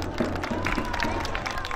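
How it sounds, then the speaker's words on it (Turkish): Wedding guests applaud the bride and groom, a steady wash of clapping and crowd noise filling the hall under background music and voices. "Şimdi gelin ve damat bey bir alkışlar mıyız?"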